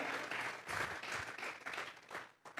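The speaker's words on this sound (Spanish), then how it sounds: "Vamos a regalarle ofrenda de palmas al Dios de la gloria." A church congregation claps in praise to God, with a steady wash of applause from the gathered worshippers that dips briefly near the end.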